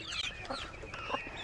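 Several chickens on a homestead cluck and murmur close by, overlapping soft calls in an irregular chatter with no speech.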